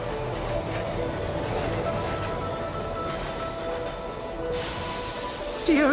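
In a PC video game, a train pulls into a station with a steady metallic rumble and sustained wheel squeal, and a sharper screech rises at the very end.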